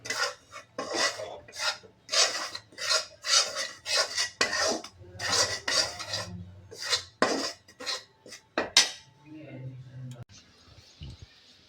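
Roasted gram flour stirred with ghee in a metal pan for a mango burfi, giving a steady run of rhythmic scraping and rasping strokes close up, a short pause near the end.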